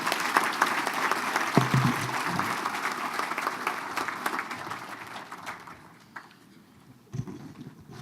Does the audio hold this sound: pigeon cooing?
no